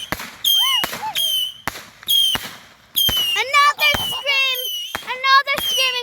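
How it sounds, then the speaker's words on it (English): Fourth of July consumer fireworks go off in a backyard show, with sharp bangs and high whistling screams that rise and warble between the pops, loud and fairly close, along with bits of nearby voices. "Another screaming firework."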